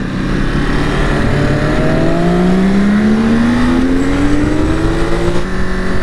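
A Monster 950 motorcycle accelerates hard along a country road, its engine note climbing steadily in pitch through a long, loud pull with steady wind noise underneath.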